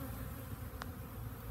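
Saskatraz honey bees buzz at a Warre hive, a steady close hum of many insects with one brief tick partway through and no talking.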